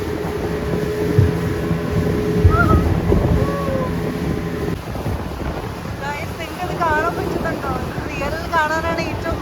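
A boat carries passengers to an island near Nusa Penida, its engine droning under strong wind buffeting the microphone, while voices chatter and call out in the later part.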